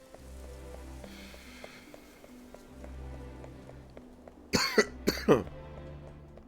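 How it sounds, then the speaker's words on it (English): Two bursts of harsh coughing near the end, close and loud, after a stretch of quiet background music with a low hum. "I'm so sick of fucking coughing."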